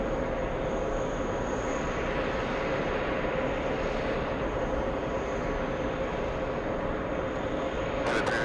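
A jet airliner taxiing at JFK Airport, a continuous loud engine whine and roar holding steady throughout, with no speech over it.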